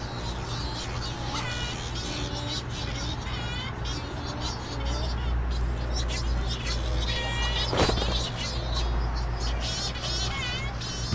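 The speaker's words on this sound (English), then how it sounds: "Once the birds are back on land, they greet their neighbors." Shearwaters at a breeding colony give repeated wavering, nasal greeting calls to neighbours, several birds overlapping close by over a steady background rumble, with a voice faintly underneath.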